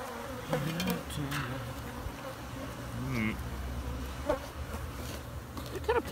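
Bees buzz close by, a wavering insect drone with rising and falling pitch as individual bees pass near, over low outdoor background noise.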